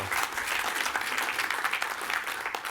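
Audience applause at a MEF wholesale leadership forum in Europe, a steady dense burst of clapping from a seated crowd that fills the whole moment without any speech over it.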